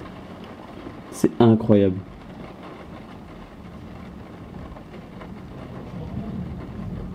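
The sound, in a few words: thunderstorm with continuous thunder and rain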